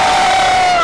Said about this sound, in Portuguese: plateia, grita pra mim